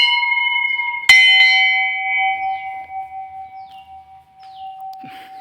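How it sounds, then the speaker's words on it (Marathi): A temple bell near the Unhavare hot water spring in Mandangad is struck once, ringing out loud and close, then a long pure tone fades slowly with faint bird chirps behind it. "तरी बेल आपण बेल मारूया पहिले"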